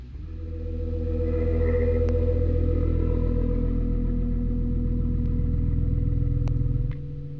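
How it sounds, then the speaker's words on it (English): A MIDI keyboard instrument built from layered guitar feedback samples plays a loud, sustained droning tone that swells in, holds for several seconds and cuts off near the end. "6 different samples were layered over different zones of the keyboard and were combined to create a MIDI instrument"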